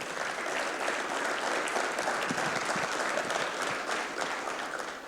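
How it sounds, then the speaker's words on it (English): A conference audience gives a big round of applause at the end of a tech talk, dense sustained clapping from many hands that holds steady and then begins to taper off. "Let's give them a big round of applause."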